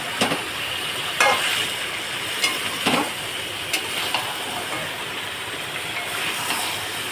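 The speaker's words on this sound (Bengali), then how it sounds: "এইভাবে আমি চিকেনটাকে ভালোভাবে কষিয়ে নেব" Chicken sizzling as it is stir-fried in a pan, a continuous hiss punctuated by several scraping stirs spaced every second or so.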